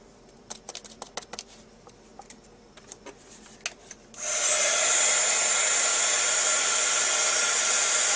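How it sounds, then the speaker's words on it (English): A few light taps and clicks come first, then a heat tool switches on and blows a loud, steady high whoosh to emboss silver powder on a handmade card, holding constant until the end. "I'm going to put our silver powder on and emboss that one."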